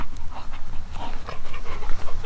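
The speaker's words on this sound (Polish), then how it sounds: "Dobry pies." Close, rapid panting from a dog at home after playing fetch, quick rhythmic breaths with a faint whimpering edge and no speech over it.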